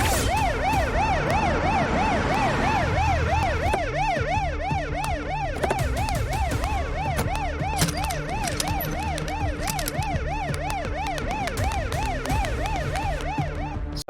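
An ambulance siren wails continuously with a fast rising-and-falling cycle, loud and close over a low vehicle rumble.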